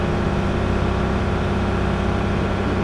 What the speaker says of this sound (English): You can hear that motor just humming in the background right there.